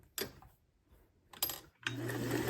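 Treadle sewing machine driven by turning its handwheel by hand instead of the pedal, giving short bursts of mechanical clatter with pauses, then a steadier hum of stitching toward the end.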